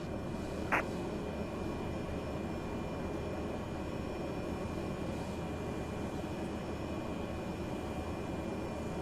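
A Cessna Caravan's engine runs at a steady idle while it holds on runway 36 at Sola before takeoff in Microsoft Flight Simulator. The drone is even and unbroken throughout, with one brief click near the start.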